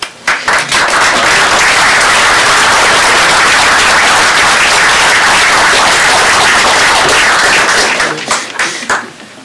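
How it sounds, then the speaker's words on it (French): Conference audience applauding a speaker, loud, dense clapping filling the room for several seconds before thinning out into a few scattered claps. "On va commencer par l'applaudir et le remercier."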